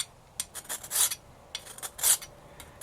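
A Morakniv Mora 711 Allround knife blade being sharpened, with short rasping strokes in an irregular rhythm, fairly close and alone.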